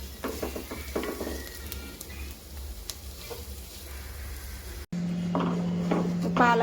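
Dhaba-style paneer curry with ginger simmers in a pan with a soft, steady sizzle and occasional close spoon scrapes and clinks. No one speaks, and a low hum rises near the end.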